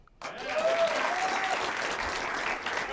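Studio audience applause welcoming comedian Pat Dixon on a late-night talk show, a burst of clapping and cheering that starts abruptly and holds steady, filling the room, with a faint whistle early on.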